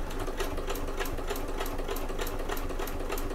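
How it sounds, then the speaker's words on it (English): A sewing machine stitches a fabric Adventure Bag near a D-ring, its needle rattling in a fast, steady, continuous rhythm that is loud and close, with no voice. "You don't need to reverse your stitch at the start and at the end."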